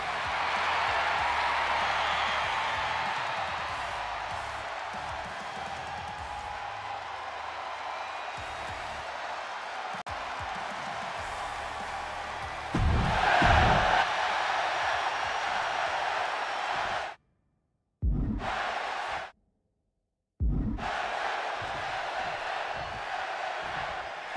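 An arena crowd in the wrestling video game WWE 2K26 roars and cheers in a steady wash of noise, with louder bursts and brief cutouts.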